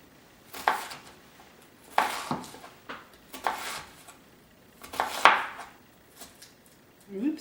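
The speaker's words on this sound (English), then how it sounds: "And now this is when we will do our dicing. Nice sharp knife." A sharp knife dicing on a cutting board in bursts of quick, crisp chops, with pauses between short runs of cuts; close and fairly quiet.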